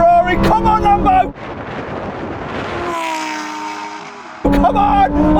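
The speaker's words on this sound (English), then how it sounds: "Oh no, here comes the Ferrari." A Ferrari Pista supercar accelerates hard in a drag race, a sustained engine roar with rising tone that runs for about three seconds between stretches of excited talking.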